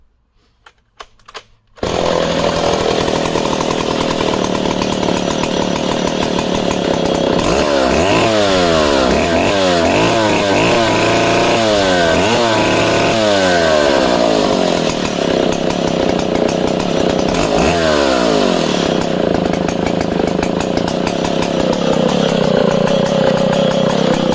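A vintage West German Stihl Contra 106cc two-stroke chainsaw engine sputters to life after a few pulls, then runs loud and steady with repeated revving surges rising and falling in pitch.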